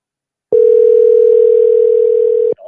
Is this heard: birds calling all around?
no